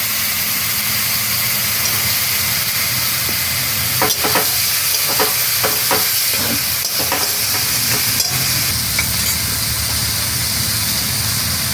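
Fish masala with grated onion frying in a pan for a fish curry, a steady loud sizzle and hiss with a few stirring scrapes and clinks midway.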